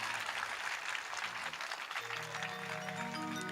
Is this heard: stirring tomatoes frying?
no